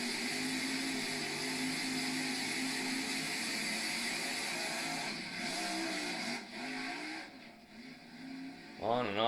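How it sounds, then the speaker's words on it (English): A 1938 Chevrolet drag car engine at a dragway, revving loudly in steady, continuous bursts as the throttle goes on and off, with the tone dipping and rising again near the end. "On and off the throttle there."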